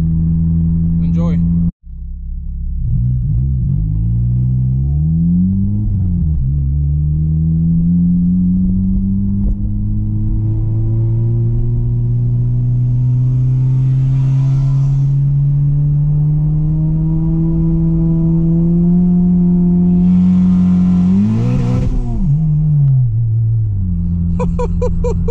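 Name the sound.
400 hp turbo Honda Civic Si brake boosting and accelerating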